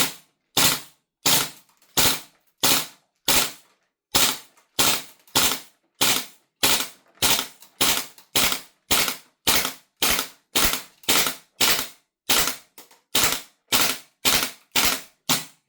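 Marksman IX AR9 gas blowback airsoft rifle firing in a steady string of sharp, snappy reports with clacking bolt action, about two per second, close and loud, with no voices.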